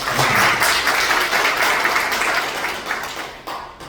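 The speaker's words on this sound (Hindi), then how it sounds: "इसके लिए एक जोरदार तालियां।" A bank officials' audience at an event in Bhagalpur, Bihar, breaks into loud, dense applause close by, a continuous wash of clapping that thins slightly toward the end with no voices over it.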